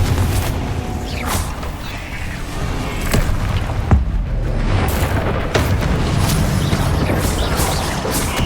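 Booming Confringo spell explosions from Hogwarts Legacy burst out in a rapid, dense battle, with repeated sharp blasts and rumbling impacts layered over continuous magical combat noise.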